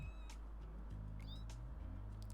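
A cat in the video game No More Heroes meows several times in short, high calls over a loud, steady background hum of game audio.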